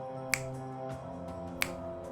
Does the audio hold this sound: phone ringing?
no